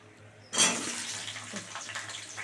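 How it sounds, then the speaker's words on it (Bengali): Potatoes and pointed gourd drop into hot frying oil with a sudden loud burst of sizzling, which then settles into a steady, slightly fluctuating crackle at close range. "এবারে এই তেলে আলু আর পটলটা দিয়ে দেবো"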